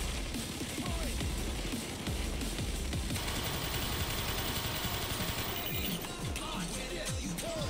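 Dense, continuous machine-gun fire from a turret in Payday 2 rattles loudly for the whole stretch, layered with overlapping gunshots and game noise, with no pauses.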